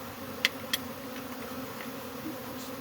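Honeybees from a hive lodged inside a cable box, droning in a faint continuous buzz with a couple of brief sharper clicks near the start.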